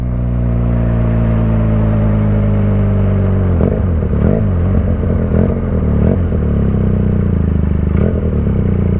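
A QJ Motor SRK 400 motorcycle exhaust, loud and close, settles from a steady idle into a string of sharp throttle blips with popping, crackling bursts between them.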